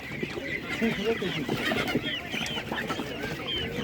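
Chickens, including Spanish and naked-neck breeds, cluck and chatter continuously at an outdoor animal market, close and lively, with people talking faintly beneath.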